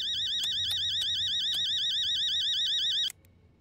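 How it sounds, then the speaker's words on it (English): House alarm in the video game Fears to Fathom: a loud, continuous warbling electronic siren with regular clicking pulses, sounding steadily for about three seconds before cutting off abruptly. "That sounds like a broke into your house alarm."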